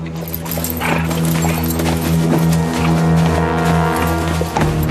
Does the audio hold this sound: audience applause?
no